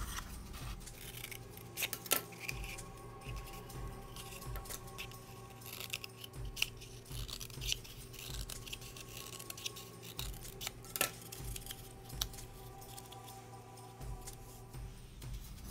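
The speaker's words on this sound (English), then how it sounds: "we're gonna take our scissors and carefully cut that piece off" Scissors snip through a cardboard tube during a spider-print craft, with quiet, irregular cuts and small scraping rustles and no talking.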